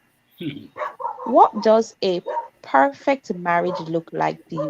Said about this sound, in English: Please excuse my dogs outside.